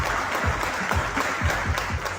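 An audience at a furniture-industry panel event claps for the panelists in a short, steady burst of applause.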